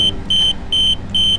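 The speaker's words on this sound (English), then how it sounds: "So it's flashing a warning and gives an intermittent alarm as well." A tyre pressure monitoring system sounding its low-pressure alarm: loud, close electronic beeps repeating in an even on-off pattern, four short tones over a low background hum.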